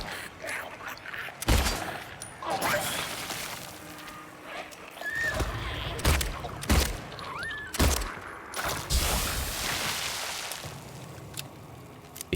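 Gunshots fired through an obstacle in the Silent Hill 2 remake, several loud, sharp reports spaced a second or two apart over a dense, noisy game soundscape.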